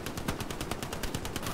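Rapid machine-gun fire in the WWII shooter Hell Let Loose, a fast even string of loud shots with no pauses over a second and a half.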